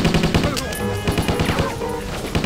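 Rapid video-game gunfire at a zombie, a loud close burst of repeated shots in quick rhythm over a couple of seconds.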